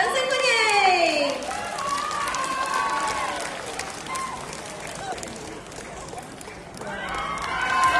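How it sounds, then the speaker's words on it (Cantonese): A concert crowd at an evening variety show applauds and cheers a singer coming on stage, sustained dense clapping with a few voices rising over it, loud and continuous throughout. "掌聲歡迎！"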